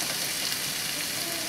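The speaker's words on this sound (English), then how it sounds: "I'm gonna go ahead and add the onion" Onion frying in a pan for curry chicken and potatoes, giving a steady, dense sizzle close by with no talking over it.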